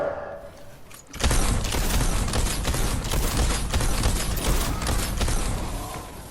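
Rapid bursts of steampunk weapon fire from Fortnite Save the World, a dense run of loud, closely spaced shots and impacts that begins abruptly after a quiet second and continues throughout.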